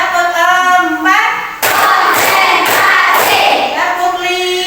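Classroom clapping game with children and teacher chanting a counting rhythm: a voice leads at first, then a burst of loud group claps and thuds in quick patterned bursts, with chanting voices mixed in.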